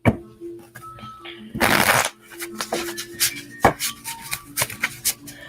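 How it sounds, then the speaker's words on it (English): Tarot cards being shuffled by hand, a long dense riffle burst followed by a run of quick, close card flicks and taps. "I'm shuffling better for you, Erin."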